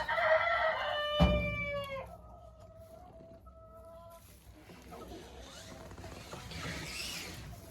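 Hens in a coop during frosty weather give a few close clucks and a short crow-like call at the start, then quieter intermittent clucking and scratching fill the rest.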